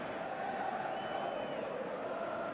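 A stadium crowd roars steadily after a goal in a Ferencvaros versus Juventus Champions League football video game, a dense sustained cheer held at a fairly even level.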